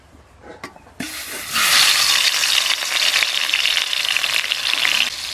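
Eel pieces drop into hot oil and burst into a loud, steady sizzle that holds without letup, following a few faint clinks and quieter sounds at the start.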